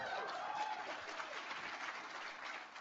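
Steady applause from an audience at a discussion event with a senior official, a continuous dense wash of clapping at moderate-to-faint level with no voices over it.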